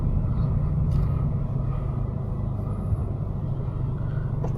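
A slammed Subaru BRZ drives over rough California roads, heard from inside as a steady low rumble of engine and tyre noise, with faint rattles and bumps over the drone.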